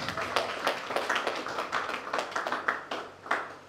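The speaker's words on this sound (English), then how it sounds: "A round of applause for yourselves." Audience clapping at a gala evening in a hall, a steady scatter of individual hand claps close by with no voices over it.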